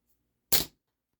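A Walther PPK/S BB pistol loaded with H&N Smart Shot BBs fires once, giving a single sharp, close crack that dies away quickly into silence.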